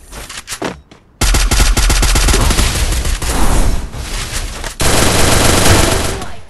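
Rapid bursts of automatic gunfire from a mobile battle-royale shooter, loud and dense, with a short quiet gap near the start and then sustained rattling volleys and a renewed heavy burst toward the end.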